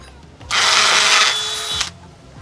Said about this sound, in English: I must have always pre-drill because we don't want them things to split up.